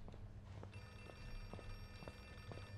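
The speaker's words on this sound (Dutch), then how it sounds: "Ik hoor trouwens een telefoon." A telephone rings in the horror video game Outlast 2, a repeated electronic bell tone pulsing several times at a distance, quiet and somewhat muffled.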